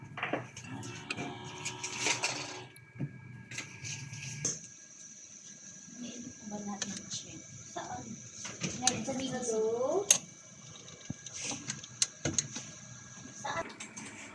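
A UV printer's wiper cleans after a print head clean, giving short mechanical scrapes, clicks and a sliding whir amid quiet room noise, with a person talking in between.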